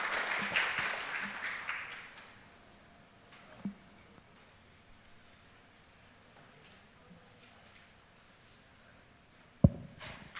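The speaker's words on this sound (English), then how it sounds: "Please give him a round of applause" Audience applause at the ASEAN IVO Forum 2024, a dense wash of clapping that starts strong and fades within about two seconds, leaving a quiet room with a few stray thumps and a voice beginning to speak.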